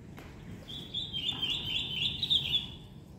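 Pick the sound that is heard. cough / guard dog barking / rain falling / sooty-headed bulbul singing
sooty-headed bulbul singing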